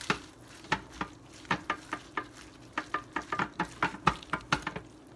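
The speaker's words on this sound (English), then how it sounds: "then we need to stir this up" Ground beef stroganoff being stirred in a pan gives a run of close scraping and clinking strokes in an uneven rhythm, with a faint sizzle underneath and no voices.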